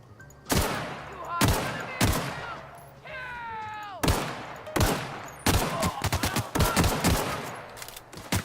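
Assault rifle gunfire in a video game rings out as several spaced single shots, then quickens into a rapid burst of loud close cracks, with a brief whining tone in between.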